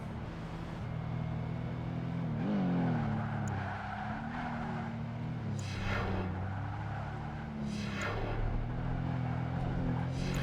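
An Audi sports coupe in Project Gotham Racing 2 drones at a steady engine pitch that rises and dips with the gears, with repeated tyre squeals as it is wrestled through corners.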